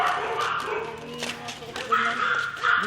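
Several dogs bark and yip in short bursts, with voices talking over them.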